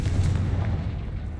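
A single heavy booming blast from the Confringo fire spell in Hogwarts Legacy, loud and close, rumbling briefly before fading.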